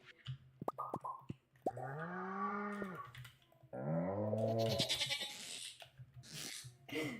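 Two long wavering goat bleats from a Stardew Valley farm animal, close and loud, with small clicks and plops around them.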